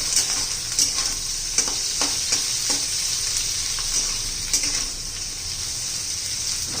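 Chopped chillies and garlic fry in an oil-filled pan for a spicy Marwari chilli dish, giving a loud, steady sizzle with occasional stirring scrapes and clicks throughout.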